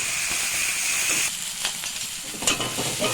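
Ginger-garlic paste and raw tomato frying and being stirred in a pan, giving a steady close sizzle with scraping stirs and small pops and no talking.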